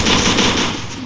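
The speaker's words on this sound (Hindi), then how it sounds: "पीछे गोली चल रही है पीछे" Loud, dense Free Fire gunfire rattles continuously in a rapid automatic burst, close and harsh.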